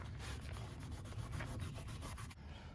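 Coarse green abrasive pad scuffing exterior door trim on a third-generation Honda CR-V, a close, continuous rasping rub with quick repeated strokes.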